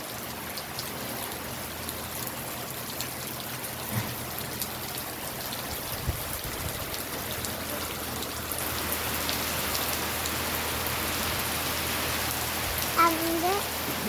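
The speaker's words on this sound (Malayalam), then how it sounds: "നല്ല മഴയാണ് ഗായ്സ്." Heavy rain pours down in front of a house on a windy day, a dense continuous patter and splash that thickens toward the end.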